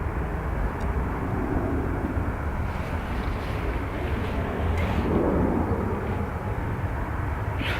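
A Ryanair Boeing 737 takes off from Dublin Airport, heard as a steady, broad jet engine roar at moderate distance with wind buffeting the microphone throughout.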